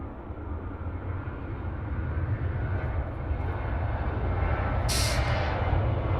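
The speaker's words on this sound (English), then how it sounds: "nice special livery coming in now on the Indonesia 714 about to land" Indonesia 714 airliner on final approach to land on runway 16 right at Sydney Airport, a steady broad jet roar that swells slightly louder as it nears, with a brief hiss burst near the end.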